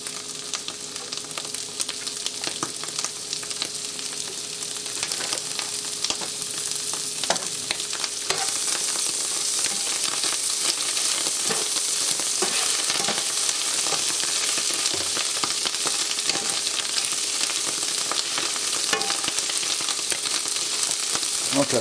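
Butter melting and sizzling in a hot pan before eggs go in, a steady close frying hiss with light crackles and occasional scrapes running throughout, no voices.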